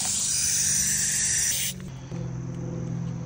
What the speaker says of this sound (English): Let's hose him off.